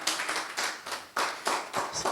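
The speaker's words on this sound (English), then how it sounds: "Can we give her a round of applause, please?" An audience at an Afárá Africa Accelerator launch event applauds in short, uneven bursts of clapping, fairly close and lively, with no talking over it.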